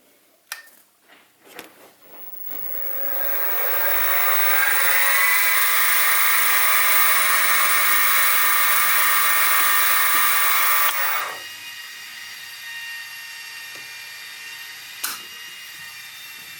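A small 2.6 mm bit drills halfway into a valve rod part for a model Stuart 10V steam engine, the high whine building over a couple of seconds, holding steady for about seven seconds, then cutting off to quiet.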